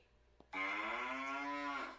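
A single cow lets out one long, loud moo lasting over a second, close to the microphone, after a brief quiet moment with a faint click; no one speaks.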